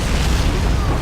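Artillery shells exploding on a Japanese bunker complex in the war strategy game Men of War: Assault Squad 2, a dense, loud rumble of booming blasts packed into a single second.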